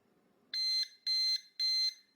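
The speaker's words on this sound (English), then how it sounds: "once you hear those 3 short beeps, the reset is complete" Three short, evenly spaced electronic beeps from a Weiser Powerbolt 2 door lock completing a reset, high-pitched and clear, following a moment of near silence.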